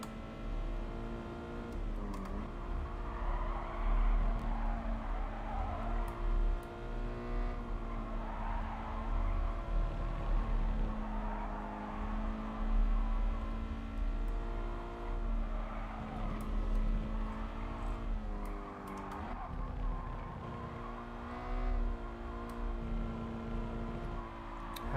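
Bugatti Veyron racing in GT Sport, a steady sustained engine drone with shifting pitch and occasional tire squeal, continuous and moderately loud throughout.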